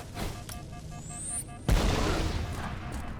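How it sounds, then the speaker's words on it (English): Pistol shots in the Halo: Campaign Evolved trailer: a few soft pops early on, then one loud, sharp blast partway through that rolls into a sustained booming rumble, with no talk. "Not a fan of the pistol sound effect."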